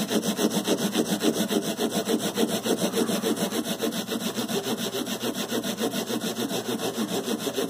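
Worn 220-grit sandpaper rubs back and forth over guitar frets in quick, even strokes, a close raspy scrubbing rhythm that continues without pause or speech.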